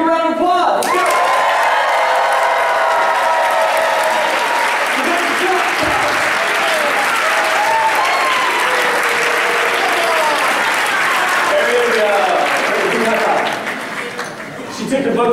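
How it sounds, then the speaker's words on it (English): An audience at a keynote speech breaks into loud, sustained applause with scattered cheers and whoops. Voices call out over the clapping, which stays full for about thirteen seconds before dropping away. "Give a round of applause."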